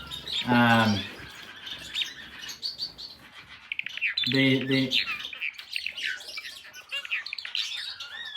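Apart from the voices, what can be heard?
red-headed Amadina finch male singing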